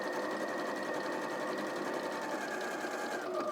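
A sewing machine stitches the final seam of a quilt block, its fast steady motor whir and needle rattle running evenly and close throughout, with no voices.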